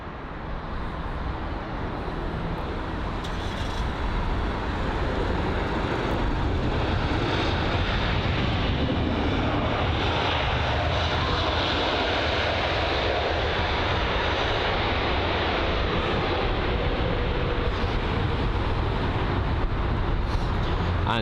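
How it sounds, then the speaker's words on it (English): Scandinavian Airbus A320neo jet engines at London Heathrow, a loud, steady broadband roar that holds at full strength for the whole stretch, with no talk over it. "next up, the Scandinavian A320 Neo"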